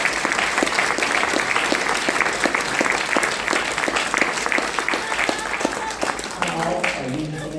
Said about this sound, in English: Would you give these folks a round of applause?